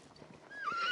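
An Ardennes draft horse gives a short rising whinny in the second half, after a quiet, low background rumble.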